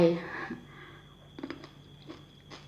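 Crunchy, sweet red grapes are chewed whole with their seeds, giving a loud bite at the start and then soft, intermittent crunching and mastication close to the mic, with someone speaking briefly.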